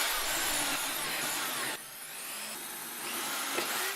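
A power drill runs in a steady, loud, high whirring whine with small shifts in pitch as it speeds up and slows down, close up, with no talking.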